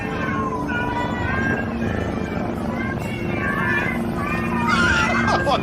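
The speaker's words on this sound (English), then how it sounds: "That's all purring cats in the background." Several cats meowing in overlapping, drawn-out calls over a steady low rumble that fits purring, continuous and fairly close.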